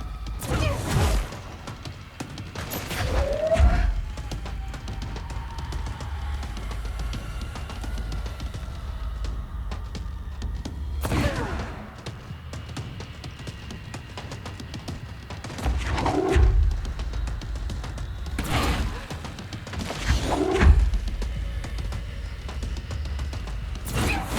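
Rockets fired at the player in the video game Control, heard as repeated booming blasts and crashing thuds at intervals of a few seconds, with whooshes between hits over a steady low rumble of game sound.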